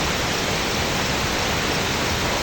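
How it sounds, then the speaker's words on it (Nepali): Waterfall in a Nepal hillside setting, a dense, constant roar of falling water filling the whole clip at close range, steady and loud with no voices. "दामी वाटरफल देखिँदो रहेछ"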